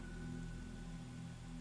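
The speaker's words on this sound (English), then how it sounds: "It's raining again." Steady rain falling in the horror video game Fatal Frame III, a soft continuous patter with a low hum beneath, faint and unbroken, with no voices.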